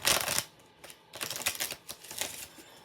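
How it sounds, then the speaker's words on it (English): Tarot cards being shuffled by hand, a few quick riffling bursts with short pauses between, close and fairly loud with no talking. "I'm gonna do one more shuffle."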